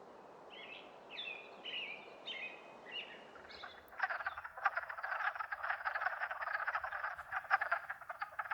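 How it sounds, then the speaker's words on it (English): Wood frogs calling at a vernal pond, a dense chorus of clucking, duck-like croaks that starts after a few faint bird chirps and then runs on steadily, moderately close, with no voices. "I was happy to see the wood frogs once again return to the vernal pond"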